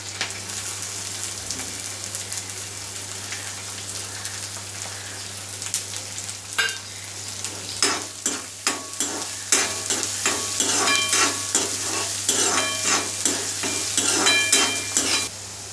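Chopped onion sizzles in hot oil with green chillies for a cabbage bhaji, a steady frying hiss joined by scraping stir strokes that grow louder and more frequent in the second half.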